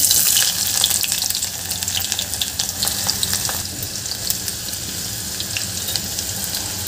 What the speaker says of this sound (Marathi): इथे आपलं मोहरी आणि जिरं झालेलं आहे. कांदा घालून घ्यायचा आहे.